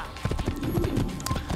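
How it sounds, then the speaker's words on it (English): Rapid rhythmic hoofbeats of a horse galloping in the video game Assassin's Creed 1, close and steady throughout, with no talk over it. "there's one difference about the horse in Assassin's Creed 1 is that you can sprint forever"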